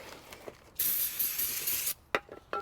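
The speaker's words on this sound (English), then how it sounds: "You just want to take some brake clean, spray it off" Brake cleaner sprays onto a Subaru Legacy front brake rotor, a single sustained aerosol hiss loud for about a second, followed by a few clanks and light handling noises.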